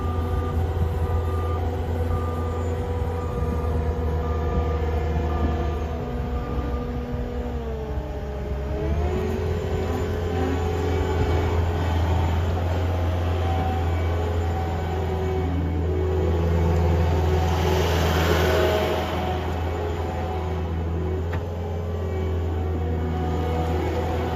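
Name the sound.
2022 Caterpillar 279D3 skid steer running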